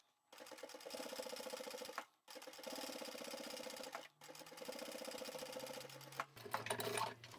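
A sewing machine top stitching a vinyl bag near the zip runs in three steady bursts of rapid whirring separated by brief pauses, ending with a few short clunks and a shift in the motor pitch.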